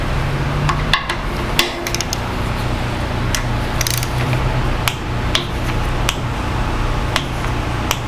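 A torque wrench tightens head bolts on an air compressor pump, giving a steady run of ratcheting clicks and sharp mechanical ticks, close and fairly loud, with no talk.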